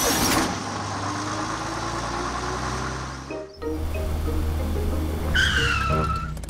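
A cartoon bus in a children's animated episode pulls away, its engine droning steadily with a brief dip before revving on, followed by a high squealing whine near the end; no talking.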